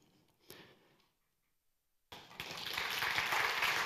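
Applause from a network conference audience at a closing session: after a brief quiet pause, clapping breaks out suddenly and swells into a steady, building roar of many hands.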